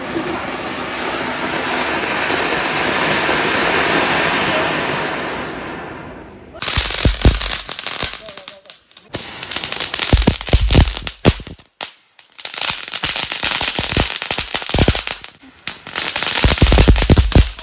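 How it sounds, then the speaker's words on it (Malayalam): Firecrackers burst during a Vishu celebration in rapid loud crackling volleys with sharp bangs and brief pauses, after a long stretch of steady rushing noise. "വീണ്ടും ആരോണ് തുടങ്ങിയിട്ടുണ്ടായിരുന്നു പടക്കം പൊട്ടിക്കൽ."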